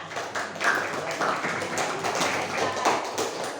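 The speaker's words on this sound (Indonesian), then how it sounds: "bisa beri aplaus dulu untuk kelompoknya Mbak Raihanun dan kawan-kawan." A classroom of students claps for a student group after their presentation, a brief, fairly even patter of hands lasting a few seconds.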